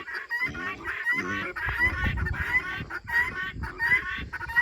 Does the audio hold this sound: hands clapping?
no